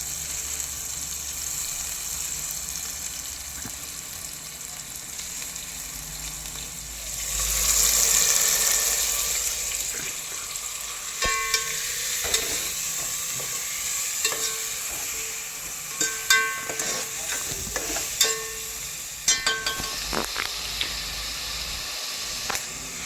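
Chopped green onions frying in hot oil in a village kitchen pan, a steady close sizzle with a brief louder hiss early on, then scattered clicks and scrapes of stirring; no one speaks.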